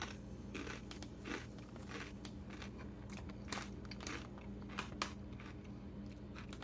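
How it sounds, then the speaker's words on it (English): Zapp's Hotter 'N Hot Jalapeno potato chips being crunched and chewed up close, a series of irregular crisp crackling bites with sharper snaps near the end, no talking. "Nice crunchy chip."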